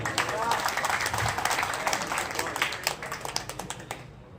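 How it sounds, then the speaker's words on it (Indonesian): An audience at an Indonesian religious gathering claps for a cameraman who recited Surah Al-Kahfi, a fairly loud, busy patter of many hands with voices mixed in, tailing off at the end. "tepuk tangan."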